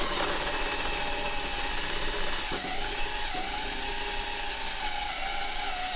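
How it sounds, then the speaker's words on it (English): A drill fitted with a 1/2-inch unibit bores a hole in a plastic gas can, giving a steady whirring grind with a faint rising tone that holds for several seconds with no pauses. "we're going to drill a 1/2-inch hole"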